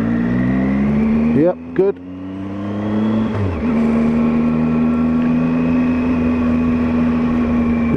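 A 2018 Triumph Tiger 800 XRT motorcycle engine pulls in first gear, a loud close drone that dips briefly with quick revs, then climbs and settles into a steady strong hum; someone speaks briefly over it.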